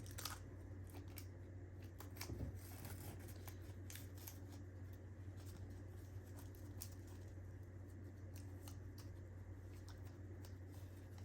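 Scissors snip through paper during junk journaling at a craft table, with repeated faint close crisp cuts in an irregular rhythm over a low steady background hum.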